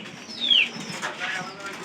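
A visiting pigeon coos softly indoors near a pigeon house, one short faint call over a quiet background.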